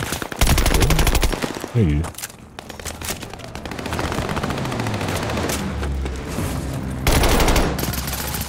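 Rapid automatic fire from a BP50 rifle in Call of Duty: Vanguard multiplayer rattles in loud, sustained bursts with brief gaps, and players speak briefly over the shooting.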